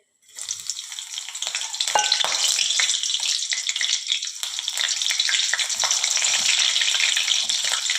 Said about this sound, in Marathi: आता त्याच तेलात हिरवी मिरची तळून घेऊया